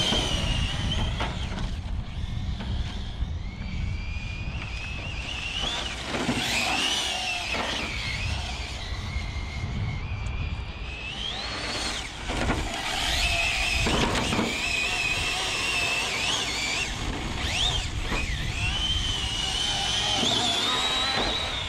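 An ARRMA Felony RC car on VIPAZ solid rubber tires, fitted with a Typhoon Game Changer cooling fan, drives and drifts continuously, its high electric motor whine rising and falling with repeated bursts of acceleration over a steady rumbling background.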